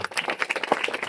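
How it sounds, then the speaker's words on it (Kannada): Crowd clapping in response at a church fasting prayer gathering, a brisk burst of overlapping claps, fairly close and steady through the whole short stretch with no talk over it. "ಚಪ್ಪಾಳೆ ತಟ್ರಿ,"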